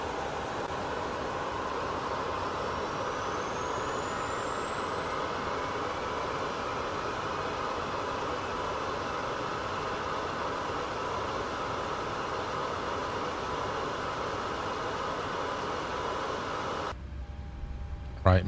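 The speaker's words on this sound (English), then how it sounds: "we're going to start with engine number 2" A Boeing 737 MAX 8 engine number 2 spools up in a flight simulator, a steady broad roar with a slowly rising whine held for about seventeen seconds before cutting off abruptly.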